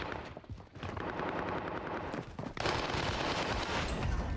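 A KG M40 rifle fires on Rebirth Island in Call of Duty, with loud, rapid automatic bursts close up that grow denser and more intense near the end.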